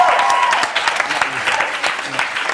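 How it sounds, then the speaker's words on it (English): Loud, dense applause and cheering from a crowd at a boy band's album release party, continuous clapping with a few whistles and shouts mixed in, close and steady throughout. "I think you all deserve to cheer yourself for that."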